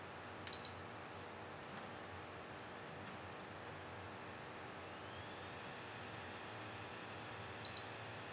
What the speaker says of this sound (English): the first time you hear a beep, it's just powering on